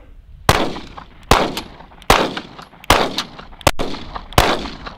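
An HK P7M13 pistol gets a fresh magazine seated and is then squeeze-cocked, giving about six sharp, loud metallic clacks close by, evenly spaced with brief ringing tails and no talking.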